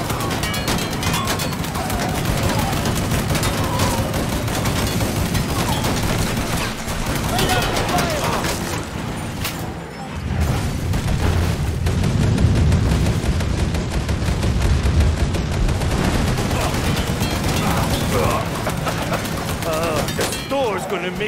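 Sustained gunfire from a firefight in Mafia 3, rapid overlapping shots and bursts running loud and near throughout, with occasional voices in the mix.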